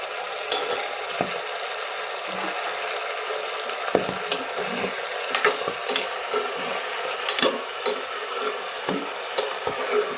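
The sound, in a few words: stirring Kathiyawadi undhiyu in a pan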